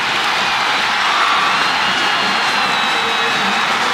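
Adamson basketball crowd at a UAAP Men's Basketball playoff finish against De La Salle, roaring and cheering wildly in a dense, sustained arena wash with no distinct voices.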